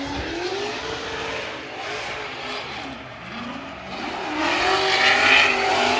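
A drift car at full throttle during practice at the Cyprus Drift Championship, its engine roaring steadily and swelling louder toward the end as it passes, with faint tire squeal mixed in and no talk.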